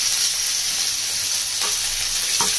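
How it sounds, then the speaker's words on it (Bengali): Chopped green chilli, capsicum and tomato sizzling in hot oil, a steady close hiss of frying with a couple of faint stirring clinks, no voices. "তেলটা গরম হয়ে গেছে, তেলের মধ্যে দিয়ে দেবো একটা কাঁচা লঙ্কা কুচি, আর দিয়ে দিচ্ছি ক্যাপসিকাম কুচি, আর দিয়েছি টমেটো কুচি।"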